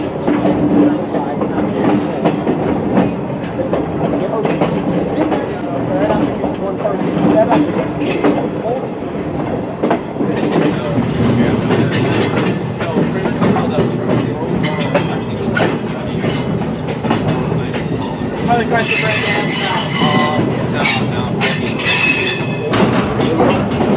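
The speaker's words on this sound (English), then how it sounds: "it was then time for the train to be brought back to the museum" A heritage train on a museum line rumbles along the rails with clattering wheels and bursts of metallic squealing, loud and close, with some voices faintly beneath the noise.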